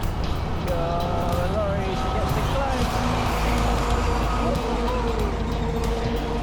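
Heavy road traffic on a dusty, busy road in Vietnam with roadworks, a steady loud roar of engines and passing vehicles throughout, with horn-like tones layered over the continuous rumble.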